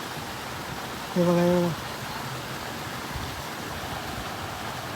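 Steady broadband rush of a waterfall on a farm in open nature, flowing continuously through the whole stretch, with a voice briefly speaking over it.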